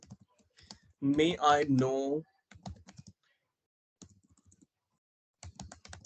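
A computer keyboard is typed on in short bursts of clicky keystrokes with pauses between them, near and clear, while a teacher briefly speaks during a Hindi-language English grammar lesson.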